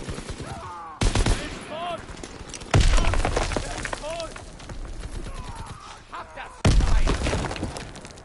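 Call of Duty WWII gunfire bangs out in loud, abrupt bursts of shots, with quieter game noise between them and a voice talking over the action.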